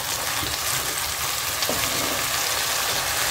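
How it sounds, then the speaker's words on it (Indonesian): Squid cooks in a pan of spicy Padang-style chili and tomato sauce while being stirred, giving off a constant close, bright sizzle and bubbling. "Aduk sampai semuanya tercampur dan merata."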